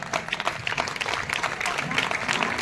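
A church Vacation Bible School crowd claps loudly for the volunteers in a brief burst of dense applause, with voices mixed in.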